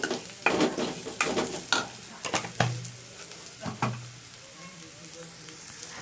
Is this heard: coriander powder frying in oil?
yes